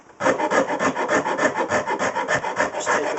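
A fine rasp file works the wooden neck of a cigar box guitar, shaping the heel in quick, steady back-and-forth strokes that are close, loud and rhythmic, with no talk.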